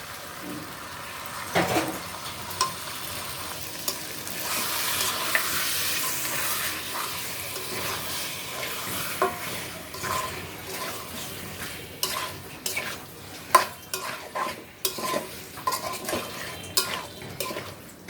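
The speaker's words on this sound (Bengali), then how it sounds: "মশলা কষানোর উপরে আলুগুলো দিয়ে দিলাম দেখো বন্ধুরা মাংসগুলো দিয়ে দিলাম" Meat and potatoes are fried and stirred in a spice masala and cooked without water. A steady sizzle runs throughout, with frequent scraping and clinking of a utensil against the pan and a few sharper knocks near the end.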